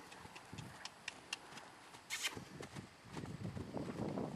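A horse under saddle during a riding lesson, heard as soft rhythmic hoofbeats on soft ground at a moderate distance, faint and regular, with a louder rush of movement and wind toward the end.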